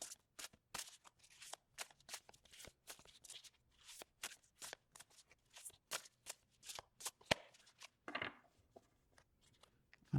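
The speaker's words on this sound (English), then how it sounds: "I'll give them a quick little shuffle here." Tarot cards from a Rackham deck riffled and shuffled in quick bursts of sharp, papery flutters and snaps, close and fairly quiet, with no talk over them.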